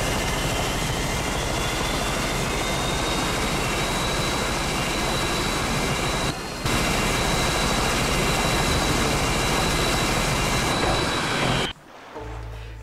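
Loud, sustained drone of propeller aircraft engines in the video game Battlefield 1942, a constant roar with a steady whine on top, briefly dropping out once before cutting to quieter noise near the end.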